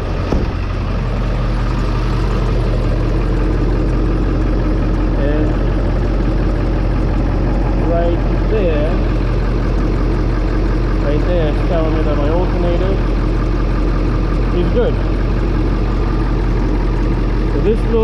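Car engine idling just after starting, a steady low rumble running throughout with someone talking over it at intervals.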